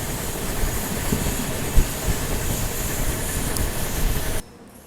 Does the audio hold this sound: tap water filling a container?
no